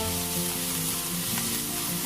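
Green chillies and curry leaves sauté in hot oil in a pan, a steady close sizzle and crackle with faint stirring and no talk.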